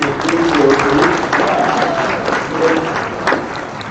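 A banquet audience applauds a team, producing dense, loud clapping that gradually tapers off, with faint voices and a brief tonal sound mixed in.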